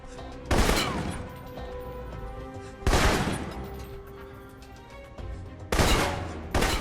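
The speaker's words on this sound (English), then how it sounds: "For long-range encounters, the assault rifle's the key" Assault rifle fire in Alpha Protocol on PS3, heard as several loud bursts that crack out at irregular intervals over a steady, low game ambience.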